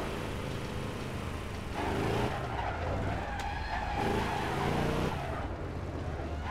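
Damaged car in the video game APB Reloaded driving with a steady engine drone, while tires skid and squeal in two longer surges over the constant rumble.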